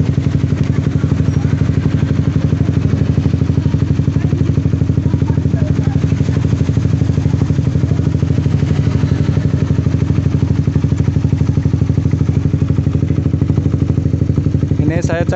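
Honda CBR 150R motorcycle engine running steadily at idle, a loud, close, even mechanical thrum with a rapid regular pulse that continues unbroken from start to finish.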